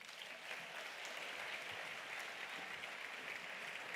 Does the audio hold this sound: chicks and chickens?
no